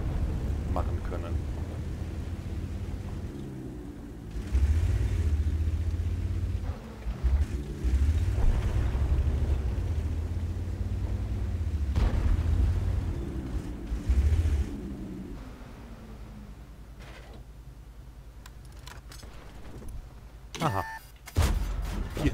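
Tank cannon fire in World of Tanks: several heavy booms and deep rumbling blasts with engine drone between them, loud and close, with someone talking over the action.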